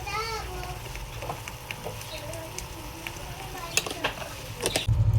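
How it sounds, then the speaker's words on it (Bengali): Spice paste being sautéed in a pan for green chili chicken, a soft ongoing sizzle with stirring scrapes and occasional louder clatters, heard beneath a person talking. "মশলাটা দিয়ে ভালো করে এখন কষাবো"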